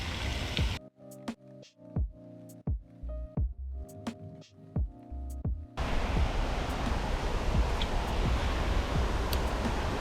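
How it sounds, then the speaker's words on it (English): Steady broadband rush of a creekside waterfall, loud and continuous through the second half after a quieter stretch of scattered clicks and knocks near the water's edge. "hey guys, sorry about that waterfall."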